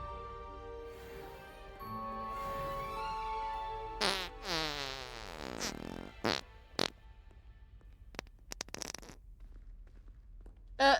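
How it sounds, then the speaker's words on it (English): Pando, a video game creature, lets out a long wobbling fart, followed by a short sputtering one and a spray of quick crackly bursts, loud and isolated over a quiet game backdrop. "with Pando farting like that"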